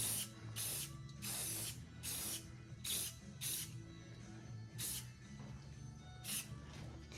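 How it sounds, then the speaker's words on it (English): Spray bursts hit a workshop piece, the leg section, in about nine sharp, close, hissing blasts separated by short pauses, under a low mechanical hum. "We're going to spray this, what I call the leg,"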